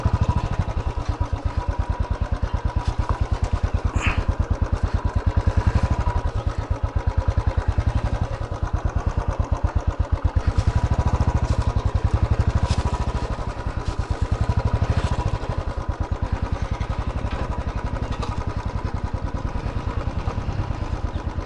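Motorbikes ride along a hilly road in Ayodhya Pahar, Purulia, that is closed for fresh concrete work, engines droning and thrumming steadily and close for the whole stretch, with a faint clatter and no talk.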